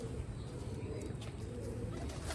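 Black-faced Sialkoti pigeons coo on a rooftop loft, low soft repeated calls close by under steady background noise.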